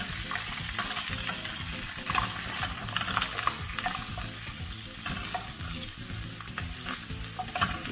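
Prawns and mussels with garlic cook in a pan, giving a steady close sizzle and frying hiss with intermittent stirring scrapes, no talk over it.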